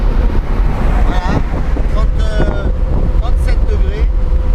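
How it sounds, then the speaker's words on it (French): Wind roars loudly and steadily through the open windows of a Citroen GS driving at 120 km/h on a motorway in very hot weather, a continuous buffeting rush with engine and road noise underneath. "Il y a du bruit, il y a du vent. Parce qu'on a ouvert toutes les fenêtres."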